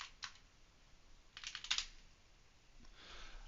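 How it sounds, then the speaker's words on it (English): Quiet typing on a computer keyboard, a few scattered clicks followed by a short burst of quick keystrokes, then one more soft tap, close and alone. "So you type set authority"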